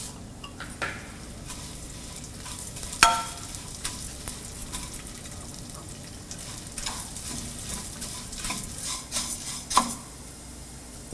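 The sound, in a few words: rice flakes frying in ghee until crispy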